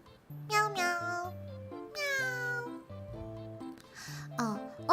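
A human voice imitates a cat, repeating a series of drawn-out, high, sing-song meows in a steady rhythm over about five seconds, with short pauses between groups.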